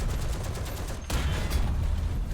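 .50 cal machine gun fire in War Thunder comes as a continuous rattling stream of rapid shots, loud and close, with one heavier jolt midway and no voices.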